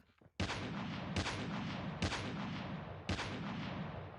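Bursts of gunfire in the Call of Duty: Mobile shooter, four loud broadband blasts each trailing into sustained rattling fire during a competitive esports match, dense and continuous with no voices.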